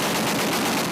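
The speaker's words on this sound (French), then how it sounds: "Les canons anti-aériens montés sur pick-up donnent le top départ du combat." Bursts of anti-aircraft guns mounted on pickup trucks fire in an outdoor street battle in Tripoli, a dense, continuous roar of heavy gunfire and rapid shots filling the whole stretch with no voices.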